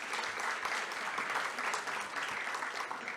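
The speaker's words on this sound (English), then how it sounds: "So please give them a round of applause as well." An audience claps in steady, dense applause for a few seconds, an even wash of hands with no single voice standing out.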